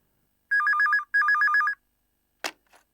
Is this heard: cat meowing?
no